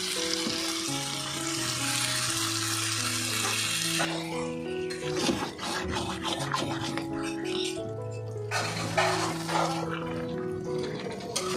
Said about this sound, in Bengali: মাটনটা কষানো আছে, আর এটা অনেকক্ষণ সময় নিয়ে ধৈর্য ধরে কষাতে হবে